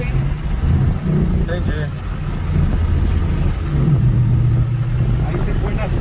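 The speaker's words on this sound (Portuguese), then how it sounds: "Ronco é muito alto, muito lindo, velho." The V8 engine of a 2013 Mustang GT, rated at 426 hp, rumbles and swells in a low, steady roar under a conversation, its loudness rising toward the end.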